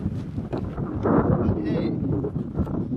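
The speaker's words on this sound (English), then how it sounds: "It's quite windy." Wind buffets a microphone outdoors, making a low rumbling roar with gusty swells. A person speaks over it close by.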